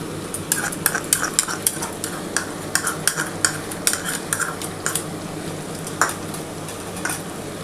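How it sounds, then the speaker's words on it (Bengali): Onion paste and ginger-garlic paste are stirred and fried in a pan for chicken dak bungalow, with a continuous sizzle and rapid, rhythmic scrapes and clinks of the spoon on the metal pan, close up and with no talking. "এবার ভালো করে একটু নাড়াচাড়া করতে হবে।"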